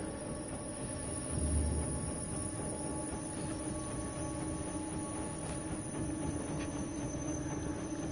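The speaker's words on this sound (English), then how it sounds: "Get that train again." A train in the video game INSIDE rumbles steadily with metallic wheel squeal and rolling rail noise, a continuous dense roar without speech.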